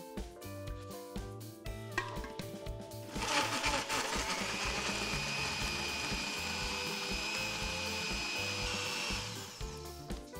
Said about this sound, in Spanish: Y a licuar.